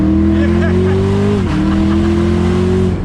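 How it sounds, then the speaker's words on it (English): A 2017 Chevrolet Camaro ZL1 engine drones loudly and steadily up close with a high supercharger whine, pitch rising then dipping briefly before climbing again. "you definitely hear that supercharger whine a lot more"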